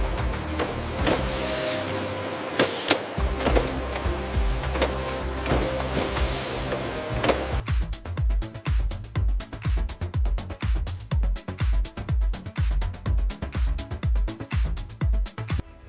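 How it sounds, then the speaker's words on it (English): An automated mango slicing machine runs in a food processing factory, first as a dense continuous mechanical whir, then as fast, regular rhythmic clunks repeating steadily for the second half, loud and close. "ripe mangoes are precisely guided into the automated slicing machine"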